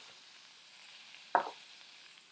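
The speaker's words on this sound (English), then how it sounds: "we're going to add our spices and we're going to fry them out" Mixed powder, chili powder, tandoori masala powder and cardamom pods fry in oil for a king prawn curry. A faint, steady sizzle runs throughout, broken once midway by a single short clink.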